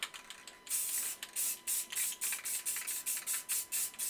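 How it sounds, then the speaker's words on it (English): Short bursts of spray adhesive hiss onto a tumbler as it is prepped for glitter, first a longer blast and then a steady run of about a dozen quick, evenly spaced spurts, close and fairly loud. "as soon as you spray, you have to go in with your glitter"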